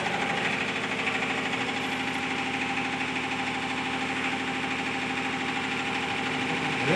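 Steady mid-pitched engine running like a generator, with a constant vibrating hum and rattle that holds at one level throughout, close and continuous with no talk.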